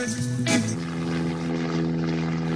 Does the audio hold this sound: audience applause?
no